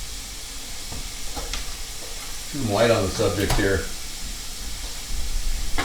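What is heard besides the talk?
vegetables sizzling with onions in pan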